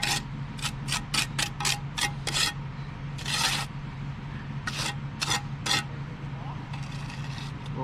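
Trowel smoothing wet concrete fill in the core of a concrete block wall, heard as a series of short, rhythmic gritty scraping strokes, close and fairly loud, with brief pauses between them.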